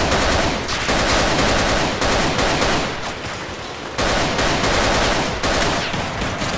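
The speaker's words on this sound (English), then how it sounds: "These Kalashnikovs that we're using are in a very poor state. So we need to use burst firing techniques if we want to hit anything with them" Kalashnikov rifles, worn and in poor condition, fire in short bursts during a Battlefield video game firefight in Somalia, with loud, dense gunfire running nearly continuously and a brief gap before it resumes.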